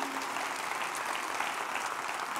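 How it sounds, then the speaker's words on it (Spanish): Congregation applauding at a church service, a steady wash of many hands clapping close and continuous throughout, with no voices standing out. "Dele ese aplauso al Rey bendito."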